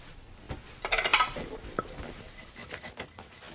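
Utensils and dishes handled in a home kitchen, soft clinks and scraping of metal and crockery, faint and close, a short flurry of clatter then lighter rubbing.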